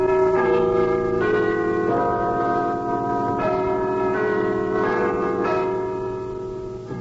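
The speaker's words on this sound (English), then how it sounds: "Bellkeeper, toll the bell." A church bell tolls in the opening of the radio serial The Black Museum, its ringing strokes loud and sustained, each new strike arriving about every second or two over the lingering hum of the previous ones, with no voices present.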